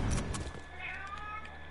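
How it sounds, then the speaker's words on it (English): A pet cat meows faintly in the background of a gaming stream, with a short drawn-out call heard beneath game sounds. "I can hear your cat, Gavin."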